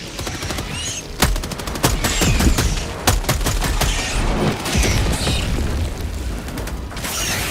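In Helldivers 2, an orbital strike rains heavy explosions amid sustained gunfire: sharp booms and rapid bursts of shots that keep up a dense, loud barrage for several seconds, with deep impacts at intervals.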